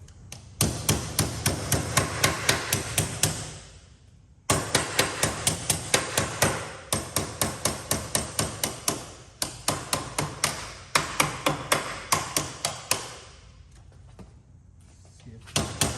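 Metal hammer blows knock down the corner of a rusty steel Ford Falcon XA headlight bucket held over a vise, loud, sharp, ringing strikes in rapid bursts with brief pauses between runs.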